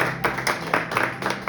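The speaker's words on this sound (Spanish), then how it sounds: "Dale un fuerte aplauso al Señor" A church congregation claps for the Lord in quick, rhythmic bursts of roughly four claps a second, loud and close, with little talk over it.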